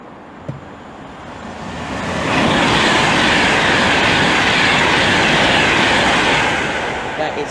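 A Virgin passenger train, a class 390 on the West Coast Main Line at Hemel Hempstead, approaches and roars past close by, its loud rushing rumble and wheel noise swelling in and holding steady before easing slightly.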